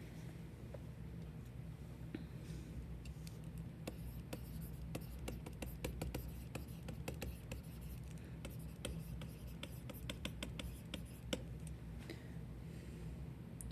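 A pen or marker writing out a chemistry equilibrium reaction, quiet irregular taps and strokes ticking against the surface over a low steady hum, with no talk.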